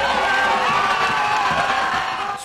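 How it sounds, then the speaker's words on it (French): A large outdoor crowd of the Congolese community in Côte d'Ivoire greets the presidential couple with sustained cheering, whoops and shouts. The roar stays dense and steady throughout, then fades slightly at the end. "le couple présidentiel s'est offert un bain de foule avec la communauté congolaise vivant en Côte"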